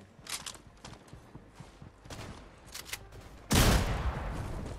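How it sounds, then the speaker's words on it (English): Light scattered clatter in a video game gives way to a sudden loud burst as a gun explodes, with the blast noise sustained until the end. "How is that gun exploding?"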